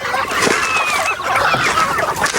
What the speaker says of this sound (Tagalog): daming manok halo halo yan oh manok, gansa